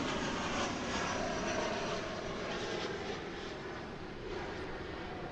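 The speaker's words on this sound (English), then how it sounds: "It's a 737-800." A Boeing 737-800 jet arriving at Dallas/Fort Worth Airport, heard as a faint, steady engine roar from a distance with no talk over it.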